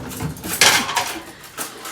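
Dishes being washed in a home kitchen, with pots and cutlery knocking and clinking together in a few loud close clatters over running-water hiss, without talking.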